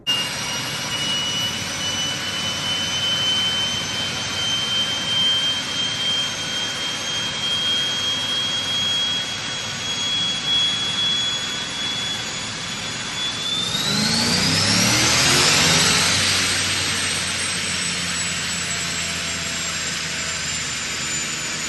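A supercharged Corvette engine runs under load on a dyno with a rising supercharger whine, climbing steadily then surging to a roaring peak before backing off.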